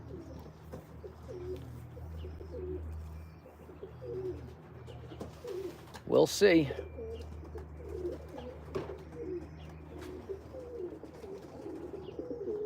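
Pigeons cooing in a loft while waiting to be fed, soft repeated coos from several birds with a brief louder flutter midway; a person speaks briefly.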